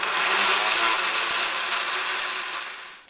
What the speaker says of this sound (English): Now I'm just going to blend those ingredients all together.